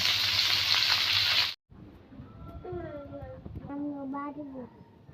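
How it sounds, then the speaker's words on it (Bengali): Fish pieces fry in hot oil in a kadai. A loud, close sizzle cuts off abruptly, and then softer cooking noise continues under a voice. "ভালো করে মাখিয়ে কড়াইতে তেল গরম হলে তারপরে মাছগুলি একে একে সাজিয়ে ভালো করে লাল লাল করে ভেজে নিয়েছি"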